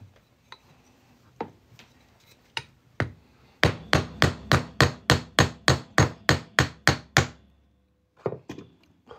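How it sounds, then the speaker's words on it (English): Hammer blows drive a half-inch punch through a 2012 90% silver proof half dollar: a few scattered taps, then a fast, even run of about fourteen sharp metallic strikes, a short pause, and a couple of final hits. "We'll get our 1/2 inch punch and hammer it on through"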